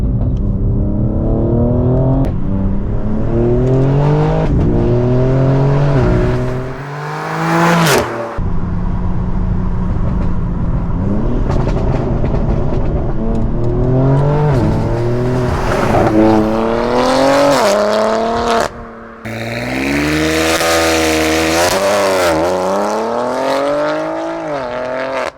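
A BMW M3/M4 with a Milltek non-resonated catback exhaust roars loudly through rising gears, the engine note climbing repeatedly with brief dips at shifts and a sharp burst as it drops down gears to pull hard again.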